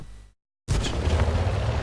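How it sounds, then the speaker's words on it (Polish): A loud, sudden cannon blast from a tank in the World of Tanks video game, a single sharp boom with a sustained roar after a moment of silence. "I trafiony strzał."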